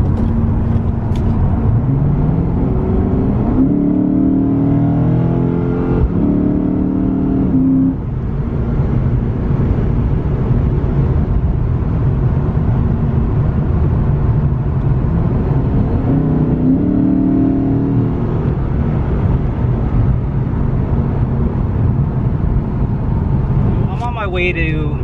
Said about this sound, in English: One of the things I like about driving this car is just the sound of the engine.